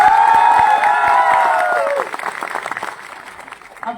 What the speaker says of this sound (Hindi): एक बार ये वो रो जोरदार तालियां बजा के बताइए कैसा लगा।